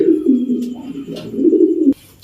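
A breeding pigeon cooing close by, with a low, sustained, throaty coo that wavers for about two seconds before stopping abruptly.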